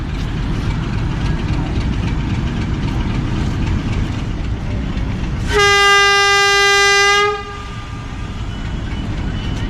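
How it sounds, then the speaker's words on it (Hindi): A loud, sustained passenger train departure horn blares for about two seconds over a steady rumble of railway noise at Haripur Hazara Railway Station, then cuts off as the engine keeps running. "आप रावलपिंडी पैसेंजर का डिपार्चर हॉर्न आपने सुना है।"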